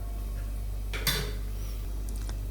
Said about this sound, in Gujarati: હવે આપણે આને ઢાંકીને 1 થી 2 મિનિટ માટે ચડવા દેશું।